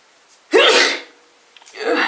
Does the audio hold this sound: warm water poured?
no